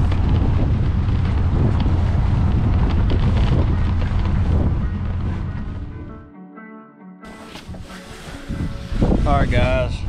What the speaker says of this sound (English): I'm glad this wind finally shifted.